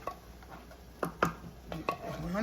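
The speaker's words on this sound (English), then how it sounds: "So I'm gonna stir this up in here" Spoon scraping and knocking against a pot while cheese sauce for homemade mac and cheese is stirred, a handful of quiet clinks and wet scrapes at irregular intervals, close and soft.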